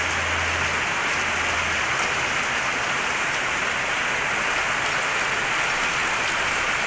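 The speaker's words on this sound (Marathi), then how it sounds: "मस्तपैकी पाऊस" Heavy monsoon rain pours down steadily in Kerala, a dense continuous hiss of water drumming on surfaces with no break, close and loud throughout, no voices.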